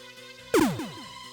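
Character falling sound effect from a Casio Loopy video game: a sudden bright burst with descending pitch sweeps, sliding downward for under half a second over a steady musical background.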